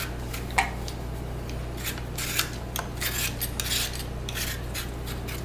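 A peeler scrapes over potatoes in a series of short, uneven rasping strokes, fairly close and clear above a steady low background hum.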